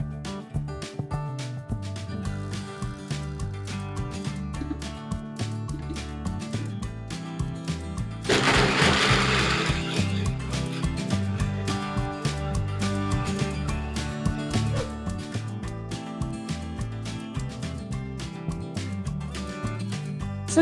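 A countertop blender whirs steadily for about twelve seconds, loud and close, as it purees oats, pumpkin seeds and almond milk into a smoothie, following a quieter stretch of other kitchen sound.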